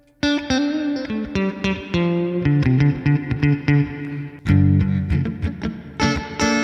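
Distorted electric guitar played through a Line 6 Helix Stadium XL, loud and close, with chords and picked notes that change tone partway through as the effect switches, and no talking.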